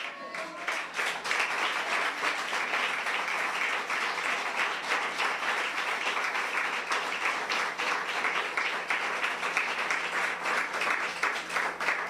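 A church congregation claps continuously in praise to the Lord, a dense, even roar of applause filling the room without a break.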